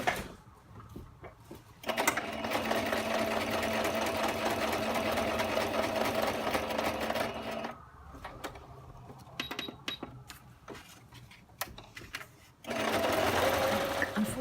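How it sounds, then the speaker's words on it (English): A sewing machine stitches a pocket for a junk journal in two runs: a long, steady whirring burst, a pause with light handling noises, then a second burst starting near the end. "Now I'm going to sew sort of from halfway down"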